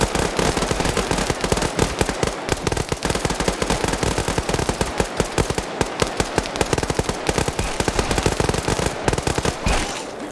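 Rapid automatic gunfire from soldiers in a military shooter video game, dense continuous bursts of shots rattling loudly for the whole stretch with no pauses.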